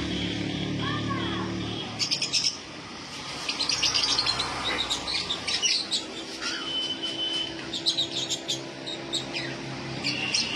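White cockatiels and lovebirds kept for sale, chirping and calling in quick, scattered bursts close by, with a voice talking over the birds at times.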